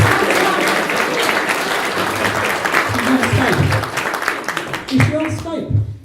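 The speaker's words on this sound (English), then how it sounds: "Give them a clap." Wedding guests at a humanist ceremony clap for the bridesmaids, a full burst of applause that gradually thins out, with voices and laughter rising through it near the end.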